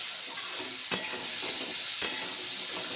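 Bitter gourd slices frying in a pan with salt and turmeric, giving a steady dense sizzle with two sharp stirring scrapes, close and continuous.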